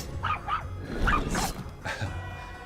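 A small puppy's yipping barks, a few short bursts spaced across a couple of seconds, fairly close and moderately loud over a busy background during a Yu-Gi-Oh! dice card game.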